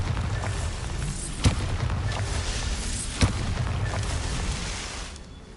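Bombarda spell blasts in a video game: two sharp booming explosions about two seconds apart, rising out of a constant low rumbling background.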